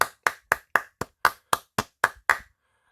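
Ten small, crisp hand claps in a steady, even rhythm, close and fairly loud, stopping after about two and a half seconds.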